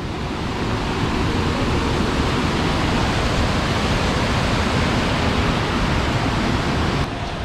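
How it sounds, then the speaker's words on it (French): Steady rushing water of a stream in the Jura fills the air with a loud, continuous broadband roar, unbroken throughout and without any voices. "j'entends ici l'eau"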